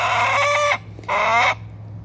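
Two drawn-out, nasal clucking calls from Australorp hens, close by and loud, separated by a short pause over a low steady background hum.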